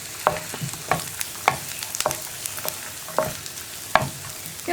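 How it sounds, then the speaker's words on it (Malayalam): Curry leaves frying in oil for tomato chutney, a constant crackling sizzle punctuated by regular sharp scrapes and taps of a spoon against the pan, close and clear with no talking. "കറിവേപ്പിലയൊക്കെ കുക്കായിട്ട് ആ കറിവേപ്പിലയുടെ ഫ്ലേവറൊക്കെ നന്നായിട്ട് നമ്മുടെ ഈ ചട്നിയിൽ ഉണ്ടാവണം."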